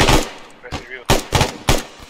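Bursts of automatic gunfire in the military shooter game ArmA 3, several loud volleys in quick succession separated by short pauses, with brief radio-style talk faintly underneath.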